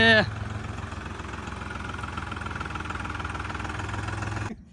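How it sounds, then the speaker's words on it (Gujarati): A tractor engine idles at a threshing site, a steady low rumbling chug that runs evenly for several seconds before cutting off, with a brief voice and tonal sound at the very start. "આપણું ટ્રેક્ટર આવી ગયું છે"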